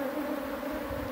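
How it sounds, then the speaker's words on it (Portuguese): A dense swarm of honeybees hums steadily around a large, crowded hive; the drone is continuous and close with no talking. "Olha o tanto de abelha."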